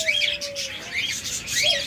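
Budgerigars chirp in quick, bright bursts close by, with a faint thin whistle running beneath, over a short stretch.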